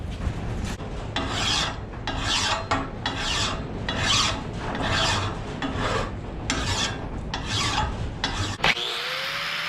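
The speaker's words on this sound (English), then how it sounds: "All right, I'm gonna give this thing a little sharpen." A hand file sharpens the edge of a modified steel digging bar in rapid, regular rasping strokes, about a dozen close, loud back-and-forth scrapes ending with a clink.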